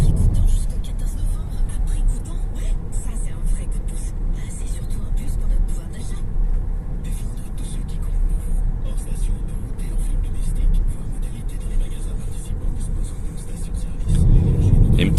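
An MG Marvel R electric car drives in eco mode with a steady low road rumble and whir that holds level throughout, with no engine revving.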